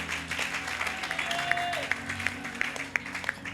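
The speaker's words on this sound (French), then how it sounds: "Acclamez pour la gloire de notre Dieu." A church congregation claps together in praise during a French-language sermon, with steady applause and sharper individual claps standing out over a low background drone.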